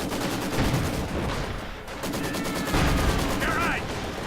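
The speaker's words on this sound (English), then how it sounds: "Maxim firing away, gloriously so." Maxim machine gun firing in a war video game during a 2v2 match, sustained dense gunfire and battle noise with distant shots throughout, under a commentator talking.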